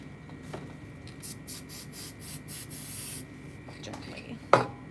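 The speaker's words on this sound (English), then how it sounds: "I'm gonna go ahead and spray" A spray bottle is pumped over fabric sewing pieces in a quick run of short hissing bursts, followed by a longer spray, then a sharp knock.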